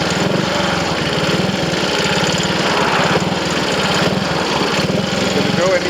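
A rebuilt, retimed Triumph Tiger Cub motorcycle engine running steadily at idle, a fast even single-cylinder putter with a buzzy mechanical edge, close and continuous, with some faint talk in the background.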